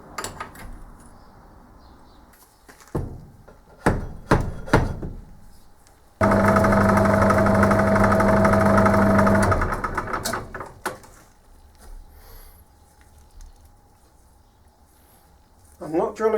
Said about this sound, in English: Going to drill a hole in this for the centre